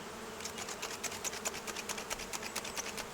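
Honey bees swarm and buzz at a backyard beehive, a steady close drone with rapid fluttering pulses of wingbeats passing near.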